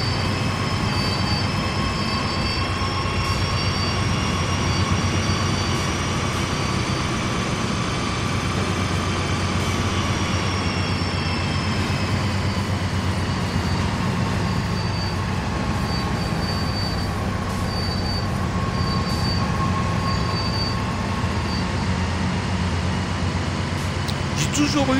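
A locomotive accelerates hard on the Sand Patch Grade in the train simulator Train Sim World 3, making a continuous loud engine drone with steady tonal whine and rail rumble that holds for the whole span.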